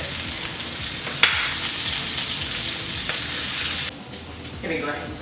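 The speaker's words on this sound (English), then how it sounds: "let me stir this again, even though it's on low" Food sizzles and fries steadily in a pan on low heat as it is stirred, with a sharp scrape or clink from the utensil partway through before the sizzle drops lower and softer.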